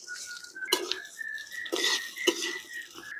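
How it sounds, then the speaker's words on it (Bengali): Rice is stirred in ghee in a pan, with a spoon scraping and clinking against the metal several times. A sustained tone runs underneath, and the sizzle stays faint. "এবার এই ঝরঝরে চালটা আমি ঘিয়ের মধ্যে নিয়ে ভালো করে ভেজে নেব"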